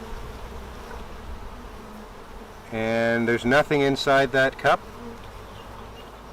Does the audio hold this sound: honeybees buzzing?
yes